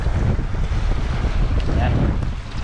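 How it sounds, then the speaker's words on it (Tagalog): Strong wind roars and buffets the microphone in a steady, dense rush, with a broad hiss of rain mixed in, no voices. "Umuulan na. At saka malakas na yung hangin."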